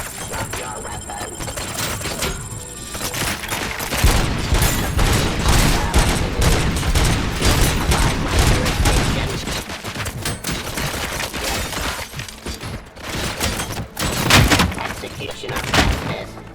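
Dense, sustained gunfire in the RoboCop Rogue City video game, rapid overlapping shots and heavy thumps forming a loud, continuous barrage, with some voices briefly under it.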